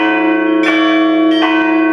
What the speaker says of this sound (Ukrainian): Під дзвін дзвонів та урочистий спів